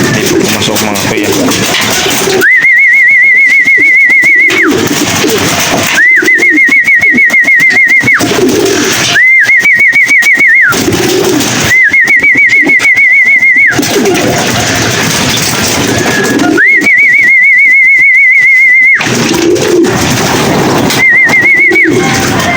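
Pigeons in a loft give repeated cooing calls in loud, even bursts of a few seconds each, separated by short pauses, close to the listener with no talking.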